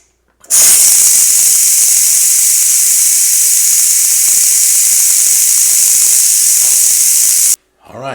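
Hot steam rushes out of a pressure cooker's opened valve in one loud, steady hiss lasting about seven seconds, then cuts off abruptly.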